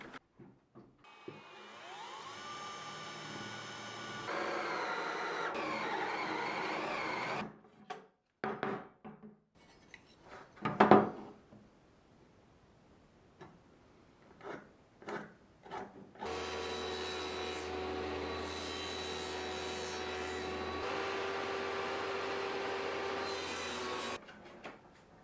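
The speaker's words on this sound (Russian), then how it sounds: "Я решил эту прорезь сделать с помощью сверла Форстнера" A Forstner drill bit bores a slot into a wooden piece for a small tea box, with long stretches of steady loud grinding broken by pauses, scraping and knocks between passes.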